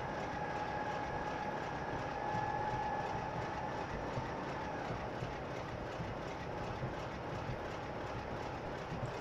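A freight train in a railway simulator on the Bristol to Exeter line runs along the rails with a steady, dense rumble and a faint tonal whine. The sound stays constant throughout, with no talking.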